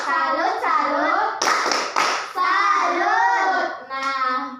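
Children in an elementary school classroom perform the 'tepuk salut' rhythmic clap, with short patterned hand claps interleaved with their chanted voices, close and lively.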